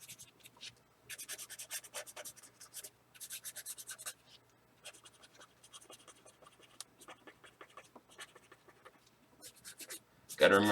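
Marker pen drawing a rockabilly club logo sketch on paper, bursts of dry scratchy strokes separated by short pauses, close up, with someone talking in between.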